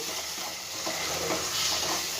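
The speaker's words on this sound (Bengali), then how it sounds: "মশলাটা আমি ভেজে নেবো যতক্ষণ না মশলাটা থেকে তেল ছেড়ে দিচ্ছে" Spice masala for an egg keema curry fries in oil, giving a steady, close sizzle with soft scraping stir strokes throughout and no voices.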